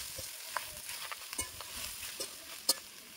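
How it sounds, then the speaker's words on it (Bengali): Chopped leafy kharkol greens are stirred in a hot pan with garlic, giving a soft steady sizzle with scattered light scraping taps from a spatula, fairly quiet and close, with no voices. "শাকগুলো দিয়ে ভালো করে নাড়াচাড়া করে নেব।"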